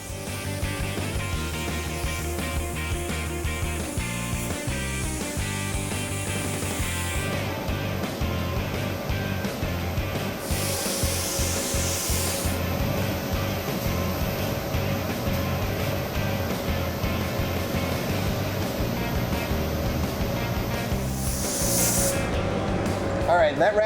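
Spray gun laying wet coats of blue paint on a Honda Civic rally car, long continuous hissing passes close by that stop and restart in bursts, over a steady background hum.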